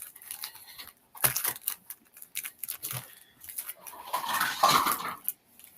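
Dogs whimper and yelp indoors in short, uneven bursts, mixed with light clattering like dishes and cutlery, with brief quiet gaps between the louder moments.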